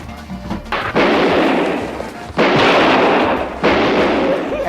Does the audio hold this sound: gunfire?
yes